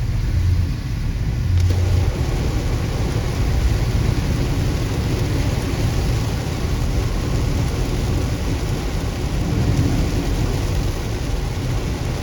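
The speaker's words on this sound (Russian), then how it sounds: "Вот такой ливень во Владивостоке." Heavy downpour in Vladivostok, a steady dense roar of rain with low thunder rumble running beneath it, loud and continuous throughout with no talking.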